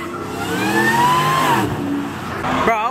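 A Toyota Supra engine revving at a dyno day, climbing to a loud high-pitched scream before easing off, followed by another sharp rev burst at the end.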